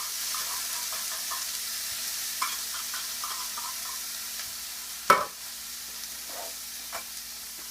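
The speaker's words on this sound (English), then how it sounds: "Throw our mushroom slices on there." Mushroom slices frying in butter on a griddle, a soft, faint sizzle with scattered tiny pops and one sharp utensil clatter partway through.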